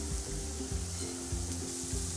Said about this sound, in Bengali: আমি বাকিগুলো দিয়ে দিলাম, এগুলো আগের মতন করে ভেজে উঠিয়ে নিব।